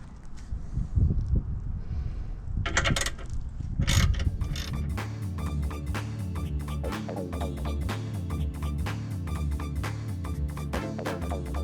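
A ratchet undoing the rear shock absorber bolts on an Astra GTE 16V, with rapid, even, close clicking running steadily for about eight seconds after some brief handling and knocks at the start.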